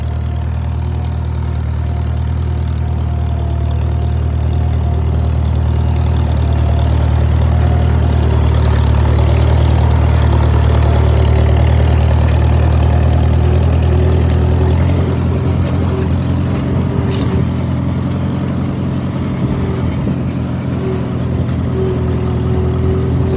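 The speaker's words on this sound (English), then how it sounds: "Such a nice running tractor." A tractor engine idles steadily and loudly, a low rumbling drone that holds constant the whole time with a slight shift in tone near the end.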